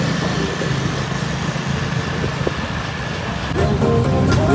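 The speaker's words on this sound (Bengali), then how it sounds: "আর এমন একটা অবস্থা মোটরসাইকেলগুলো, যে যেনতে পারতেছে ঢুকাই দিতেছে" Motorcycle engines idle in dense Vietnamese street traffic, a steady low rumble with a broad wash of mid-range engine noise that swells slightly near the end as more machines join in.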